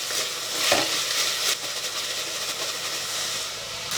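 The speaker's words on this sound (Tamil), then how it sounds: "தக்காளியும் கொஞ்சம் வதங்கட்டும்." Tomatoes sauté with onions in a pan for a Tamil spinach dal, giving a steady, close sizzle and hiss with occasional stirring scrapes and no speech.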